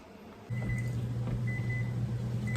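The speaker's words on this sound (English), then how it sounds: "So my timer is going off for the apples." A kitchen timer goes off while apples are being canned, giving short repeated electronic beeps over a low steady appliance hum that starts just before them.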